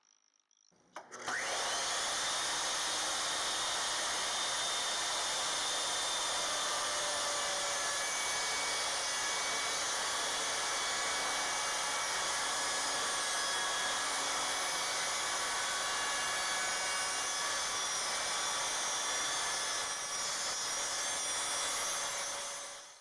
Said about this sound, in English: So we'll turn the router on and raise it up.